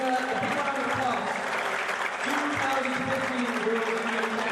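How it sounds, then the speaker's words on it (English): Steady applause fills the hall at the 2015 World Junior Squash Championships finals, a continuous wash of clapping that a voice talks over throughout. "Give a big round of applause."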